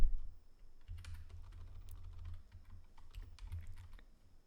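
Typing a command at a computer keyboard, a run of soft, close key taps at an uneven pace over a low background hum, with no speech.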